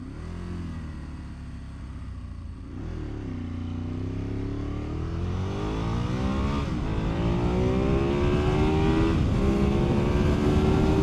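A motorcycle launching down an eighth-mile drag strip, its engine roaring loudly and climbing steadily in pitch through the gears, close and continuous with no talk.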